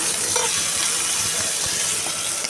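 Tilapia fish frying in hot oil just after being flipped, a steady close sizzle and crackle running throughout with a few soft spatters, no talking.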